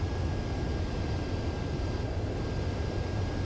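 A jet aircraft comes in to land in Ace Combat 7, a steady broad engine roar that holds loud and constant without any break, with no voices heard over it.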